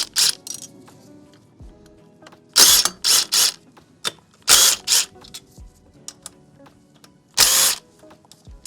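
Bursts of hand ratchet clicking come from someone loosening bolts to take apart Yamaha R3 rear sets, in short separate spurts with quiet mechanical handling in between.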